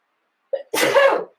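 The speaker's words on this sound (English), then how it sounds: "Hold on, I'm gonna sneeze." A single close sneeze, a short intake followed by a sharp burst, alone in silence.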